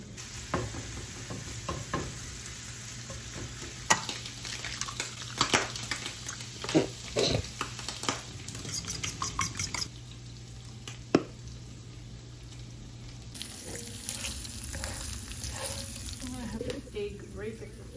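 Food sizzling and frying in a pan while being stirred, with steady crackle, scraping and clinking of a utensil close by, a person talking intermittently in the background.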